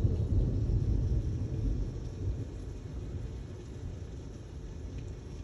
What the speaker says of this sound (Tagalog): Kumikidlat pa mga friends, kumukulog-kulog, kumikidlat.